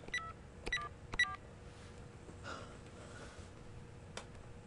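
Phone number tones are dialed in the Beyond Two Souls video game: a few quick beeps come close together, then a pause with faint ambience, then one more tone, with no talking.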